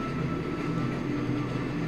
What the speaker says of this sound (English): You need to stop the train.